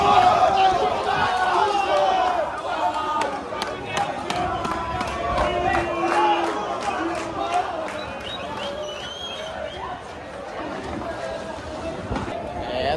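Grêmio and Vasco football supporters walk together outside the Arena, a bustling crowd with constant chatter, shouts and footsteps, and a person talking close by over the noise.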